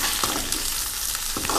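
Onion with salt, pepper, coriander and cumin sautéing in a pan, a steady loud sizzle throughout, with a couple of scraping stirs and no talk.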